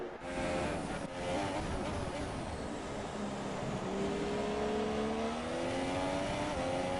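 Formula 1 race cars from the racing game F1 2017 roar down the main straight at Bahrain, a steady, loud engine drone with rising and falling pitch as cars accelerate and pass, continuous throughout with no talk.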